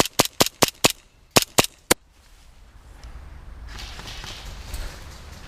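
Gunfire in a first-person shooter video game: a rapid series of seven or eight sharp, loud, close shots in two quick clusters, then a low ambient rumble that swells afterward.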